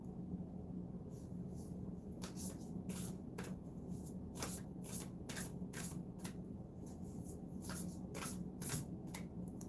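Tarot cards shuffled by hand during a live reading, a run of crisp, irregular riffling bursts and soft slaps over a steady low room hum, fairly close and moderately quiet, with no talking.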